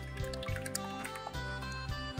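A quarter litre of sunflower oil pours into a cooking pan in a kitchen, a soft steady liquid trickle with faint gurgles and drips.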